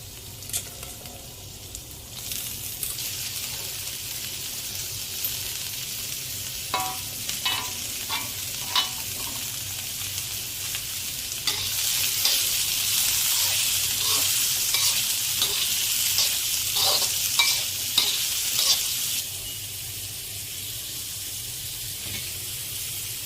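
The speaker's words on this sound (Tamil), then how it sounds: "கொத்தரவங்காய் வேக வச்சதை சேர்த்துக்கலாம்" Boiled cluster beans stir-fried in a pan for kothavarangai usli, a steady sizzle broken by repeated scraping and stirring clicks that grow louder and busier midway, with no voices.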